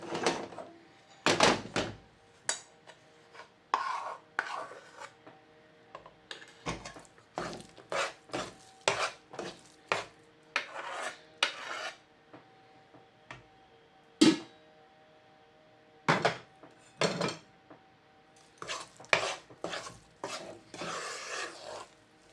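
A spoon stirs a sticky jaggery mixture in a pan for gor papdi, giving rhythmic scraping and clinking strokes in bursts with short pauses, close and fairly loud, with no talk.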